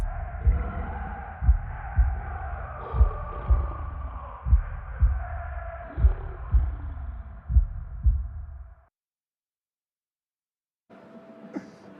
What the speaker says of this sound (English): One heartbeat.